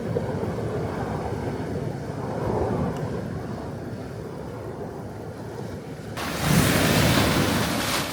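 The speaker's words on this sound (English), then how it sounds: "you can see the water coming back in. High tide's coming." Ocean surf washes in steadily with the incoming high tide near San Francisco, wind buffeting the microphone, and a louder wave surges in near the end.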